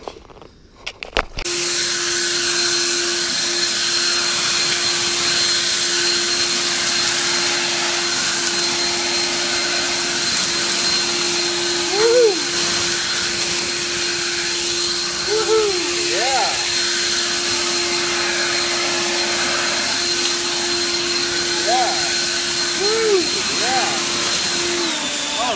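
An EGO battery leaf blower run at full power, rated at 480 CFM: after a brief start it settles into a loud, close, continuous whooshing roar with a steady motor whine that lasts to the end.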